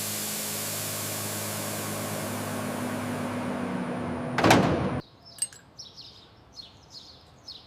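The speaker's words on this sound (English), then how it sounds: "Seal the doors." Industrial cargo doors slam shut in a sugar-processing plant: steady machinery hum runs, then one loud burst of closing and sealing cuts it off abruptly, followed by quieter sparse clicks and chirpy squeaks.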